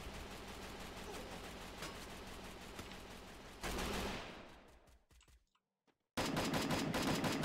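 Rapid automatic gunfire from the battle royale game Free Fire rattles in dense continuous bursts, cuts to near silence for a moment, then resumes loud and sustained.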